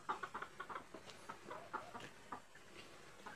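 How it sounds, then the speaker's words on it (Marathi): Free-ranging hens on a farm with a buffalo shed clucking softly, a quick run of short faint clucks at a distance, then scattered calls. "कोंबड्या मोकळ्या सोडल्या"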